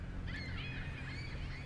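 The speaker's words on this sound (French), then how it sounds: "Pourquoi cet oiseau est en train de pleurer?" A short, mournful bird cry from a video game set in a haunted lighthouse, a faint wavering call over a steady low background.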